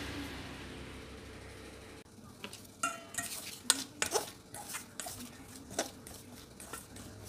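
Wheat flour and margarine are mixed by hand for pia dough, with a run of close scraping and tapping utensil strokes against a bowl, irregular and moderately loud after a quieter opening, with no talking.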